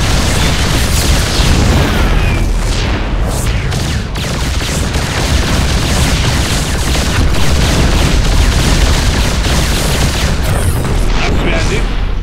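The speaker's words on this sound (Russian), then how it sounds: "Крейсеры, активируйте пушки Ямато." Battlecruiser Yamato cannon shots in the StarCraft video game, a loud, continuous barrage of booming blasts and bursts layered over dense battle noise, with unit voices speaking at times.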